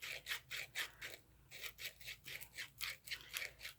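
Sandpaper rubs a crochet hook handle as it is twisted back and forth, making rhythmic close, soft scratchy strokes in quick regular bursts with brief pauses.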